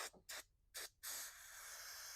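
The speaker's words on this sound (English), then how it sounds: "spray that guy off." Carb cleaner sprays in short hissing bursts, then a longer continuous spray onto varnish-coated part from a 1982 Mustang mower, close and fairly quiet.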